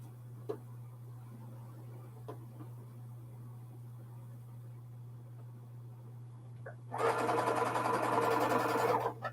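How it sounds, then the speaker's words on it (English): A sewing machine stitches a seam near a pin after a quiet stretch of a low steady hum and a few faint ticks, its motor whirring loud and close for a couple of seconds. "I just carefully slow down as I'm sewing when I'm getting close to the pin"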